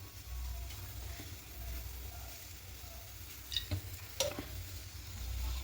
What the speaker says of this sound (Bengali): এবার এখানে সর্ষের তেল দেব।